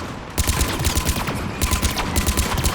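Rapid rifle gunfire from the Mars chase in Mass Effect 3, with dense repeated shots going off steadily after a brief quiet start and loud throughout.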